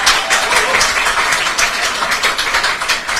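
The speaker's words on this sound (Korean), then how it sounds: "큰 박수 부탁드립니다." A hall full of attendees at a party's central founding convention applauds the founding preparatory committee leader with thick, continuous clapping at close range.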